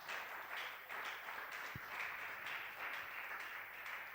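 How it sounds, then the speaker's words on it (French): Congregation applauding during a French-language youth fasting and prayer service, steady rhythmic clapping heard faint and distant, continuing throughout. "Acclamons encore pour la gloire de Dieu."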